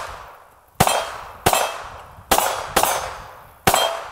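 Five sharp, cracking pistol shots from a Kahr CW380 firing 95 grain hollow point .380 ACP rounds ring out at irregular intervals, each with a short ringing tail, with no talking.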